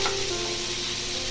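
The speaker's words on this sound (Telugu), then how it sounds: "కట్ చేసిన ఉల్లిపాయ ముక్కలు, టమాటా, అలాగే అల్లం, పొట్టు వలిసిన వెల్లుల్లి రేఖలు, జీడి బద్దలు ఇవన్నీ వేసి మీడియం ఫ్లేమ్లో మగ్గనివ్వాలి" Chopped onions, tomatoes, ginger, peeled garlic slices and cashew halves sizzling over a medium flame for a hotel-style kaju paneer curry, a loud, dense, continuous frying hiss close up with no talk.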